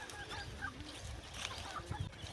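Desi country hens on a village poultry farm cluck in a busy, overlapping chorus at close range, with a few short sharper calls in the mix.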